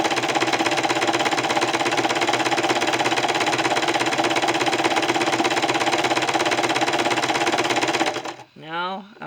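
A sewing machine stitches braid onto a rope bowl, a loud, steady rapid mechanical chatter running unbroken for about eight seconds, then it stops and a brief voice follows.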